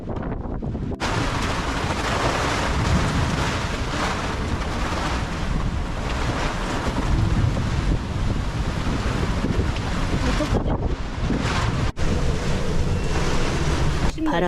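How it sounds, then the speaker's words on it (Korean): Storm winds of 50 to 70 knots roar across a yacht at sea in Spain, with crashing waves and heavy wind buffeting the microphone in a loud, unbroken rush, broken only by a brief dropout or two. "바람은 50노트에서 갑자기 70노트까지 불었고 더 무서운 건 파도가 요동치는 것입니다."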